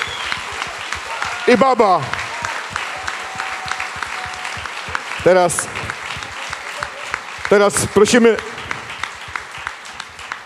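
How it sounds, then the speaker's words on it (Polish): Sustained audience applause at a cabaret award ceremony fills the hall, with an announcer speaking over the clapping at several points. "Wielkie brawa."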